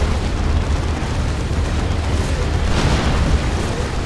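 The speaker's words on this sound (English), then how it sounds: "There's a rocket run." Rocket run explosions in Warhammer 40,000: Dawn of War 2, in an Imperial Guard versus Chaos Space Marines match, form a loud continuous rumbling barrage of booms with heavy low-end roar and no pauses.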